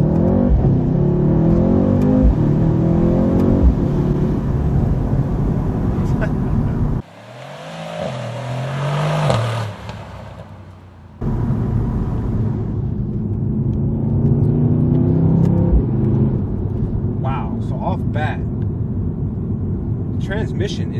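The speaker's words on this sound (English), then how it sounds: "We're just gonna see what the C63S coupe performs like compared to the BMW" Mercedes C63S AMG coupe accelerating hard in sport plus mode with quick gearshifts, a loud rumbling engine climbing through revs, a brief muffled drop midway, then surging again. Someone talks over it.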